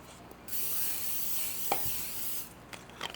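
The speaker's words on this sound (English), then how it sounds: "I'm going to spray my pan" A short burst of cooking spray onto a baking pan hisses steadily for about two seconds, with light clicks and handling noises before and after.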